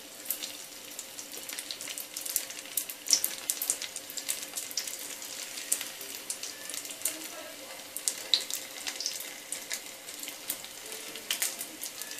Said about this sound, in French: Alors une fois que l'huile sera chaude, on va rajouter les samosas.